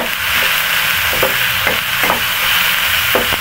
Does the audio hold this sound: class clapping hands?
no